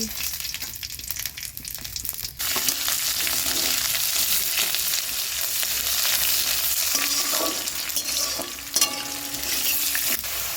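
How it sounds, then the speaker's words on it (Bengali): Cumin seeds hit hot mustard oil in a wok, setting off a sudden loud crackling sizzle after a quiet moment, then settling into a steady hiss with light stirring clinks. "জিরা ফোড়ন দিচ্ছি"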